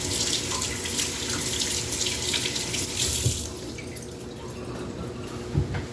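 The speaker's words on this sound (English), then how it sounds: "Let me wash my hands." Hands are washed under a running kitchen tap, a loud, close, steady splashing stream that eases off partway through, with a couple of brief knocks near the end and no voices.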